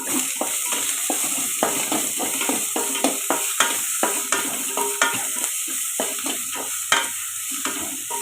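Onions with asafoetida sauté in a pan, with a lively sizzle broken by frequent scraping stirs of a utensil against the pan, close by and without speech.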